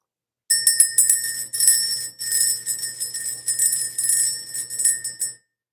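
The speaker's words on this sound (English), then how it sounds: "Let's ring the bell." Small hand bell rung repeatedly to clear energy, a bright high metallic jingle in several quick bursts over about five seconds, close and alone with no talking.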